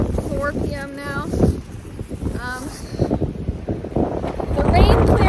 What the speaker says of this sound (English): it's definitely been windy all day